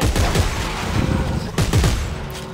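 Rapid automatic weapon fire in the sci-fi horror video game Dead Space 3, loud close bursts of repeated shots with a deep thumping low end, continuous for a couple of seconds.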